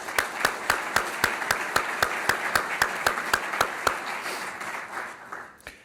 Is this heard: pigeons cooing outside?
no